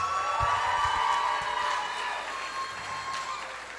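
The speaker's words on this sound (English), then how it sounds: "Please give Olivia Breen a round of applause" An audience applauds steadily at a violin award ceremony, continuous clapping filling the hall for the whole stretch, fading slightly toward the end.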